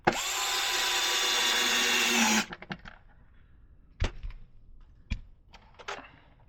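A cordless drill with its clutch set drives screws into a plastic RC car body, a loud steady whir for about two seconds, then quieter clicks and handling knocks, with a few sharp taps later.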